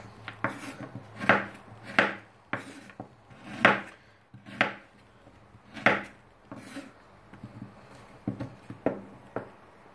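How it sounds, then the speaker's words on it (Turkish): Oranges and lemons sliced with a knife on a cutting board, a close, irregular series of sharp chops and thuds repeating over several seconds with no talking. "Baya zor dilimliyorum"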